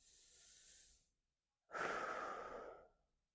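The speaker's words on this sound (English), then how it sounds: "So give me 2 more big breaths here." Two deep breaths during a runner's stretching class, a soft inhale and then a louder, fuller exhale, close and unaccompanied, with a short silence between them.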